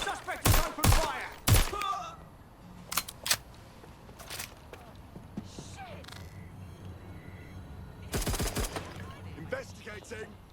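Bursts of gunfire from the video game Watch Dogs: Legion: sharp, loud volleys cluster at the start, a few isolated shots follow, and another dense rapid burst comes near the end over a low rumbling background.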